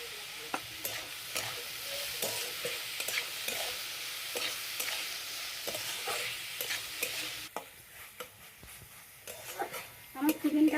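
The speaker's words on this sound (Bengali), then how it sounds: "আমার চিকেনটা ভাজা ভাজা হয়ে গেছে" Chicken frying in a pan for cutlets, a soft continuous sizzle with frequent stirring scrapes, growing louder and busier near the end.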